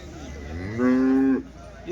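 A single loud, close moo from a cow at the weekly Punganur cattle market, where HF and Jersey cows are sold, rising and holding for about half a second over low background murmur.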